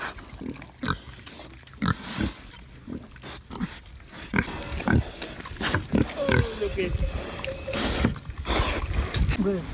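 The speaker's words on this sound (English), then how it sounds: "It's the local pig pen." Pigs grunt and snort in a local pig pen in the Swiss countryside, close and intermittent. People chat over them throughout.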